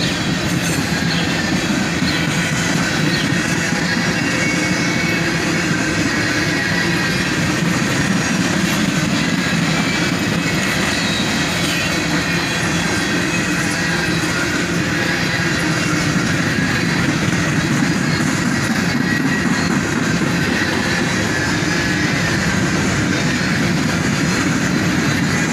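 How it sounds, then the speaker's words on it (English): A CSX freight train with Chicago Northwestern hoppers mixed into its consist rolls steadily past at close range, a continuous loud rumble of wheels and cars with faint rail clatter and squeal throughout, no voices. "This train would also end up having a bunch of Chicago Northwestern hoppers mixed in."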